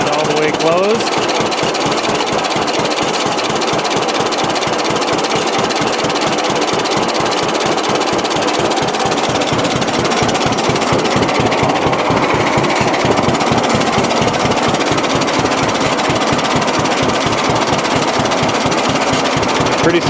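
A John Deere tractor engine runs steadily with the carburetor needle turned fully closed, a loud, rhythmic knocking chug that continues unbroken as the fuel runs out.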